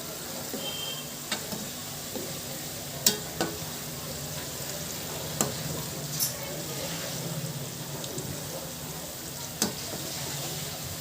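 Barule, crispy potato snacks made from boiled potatoes, frying on a high gas flame. The oil gives a steady close sizzle, with a few sharp clicks and taps of stirring scattered through it.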